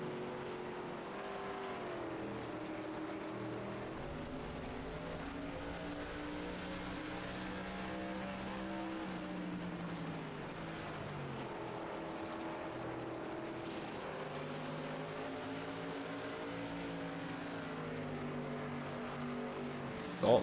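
Race cars lapping USA International Speedway in an SK Super Series sim racing game, a steady engine drone with rising and falling pitch as cars accelerate and lift, continuous and fairly faint with no talk.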